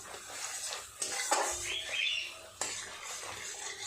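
A spatula scrapes and stirs a chilli spice paste with many green chillies and chilli powder as it fries in oil in a pan for a bata fish curry, giving close, uneven scraping bursts with no talking.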